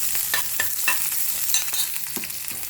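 Onions frying in a pan for dal, a dense close sizzle punctuated by rapid spatula scrapes and taps, with no one speaking.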